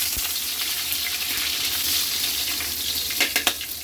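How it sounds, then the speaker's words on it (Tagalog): Ginger sizzles and fries in hot oil in a home kitchen for Bisaya-style cooking, a steady close crackle with a few sharper spatters near the end; no one speaks. "Kaili, mainit na yung mantika natin. Lagay na natin yung luya."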